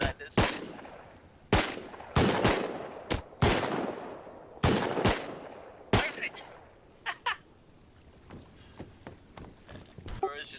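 Revolver shots in the survival game Rust, a series of loud, sharp single cracks spaced irregularly over several seconds, fading into quieter footsteps and scattered softer shots toward the end.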